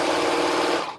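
A serger sewing machine runs in one loud, fast, even whir that lasts about a second and then cuts off sharply at the end.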